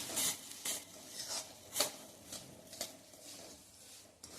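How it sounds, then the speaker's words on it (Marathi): Semolina roasting for mango sheera is stirred in a pan with a spoon, giving soft, quiet scraping strokes at an irregular, unhurried pace, alone with no talk. "अजून 1 मिनिट आपण हा रवा भाजून घेणार आहोत."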